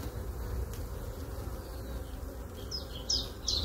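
Honey bees swarming around an opened beehive during an inspection, a dense close buzzing drone with individual bees whining past the microphone in brief higher passes.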